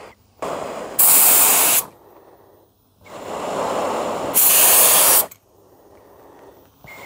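Spray gun laying Cerakote coating onto rear end parts at home: two long loud hissing passes, each building from a softer spray into an intense blast, separated by quieter gaps with faint background hiss.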